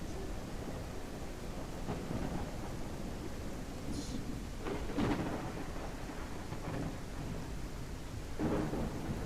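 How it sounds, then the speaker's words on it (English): Rolling thunder and steady rain from a night-time weather effect in Multiverse Designer. Several deep, rumbling claps rise over a constant rain hiss, with no voices. "We have thunder and lightning."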